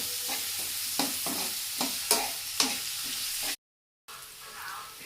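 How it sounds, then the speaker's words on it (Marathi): Onion sautéing in a pan for a fenugreek leaf vegetable dish sizzles steadily while a spoon stirs and scrapes in repeated clinks, close and fairly quiet, with a brief cut to silence partway through. "कांदाही चांगला परतून घेऊया।"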